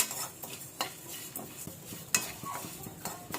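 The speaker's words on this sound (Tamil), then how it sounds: "ஒரு கைப்பிடி கருவேப்பிலை நல்லா ட்ரை ரோஸ்ட் பண்ணிக்கலாம்." A handful of curry leaves dry roasting in a pan, stirred briskly with rapid scraping and rustling strokes and light metal taps, close and fairly quiet.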